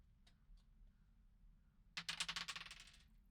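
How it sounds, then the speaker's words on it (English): Virtual dice roll in a video game: a couple of faint ticks, then a sharp burst of rapid clattering clicks rattling for about a second before stopping. "let's roll happy sad dice."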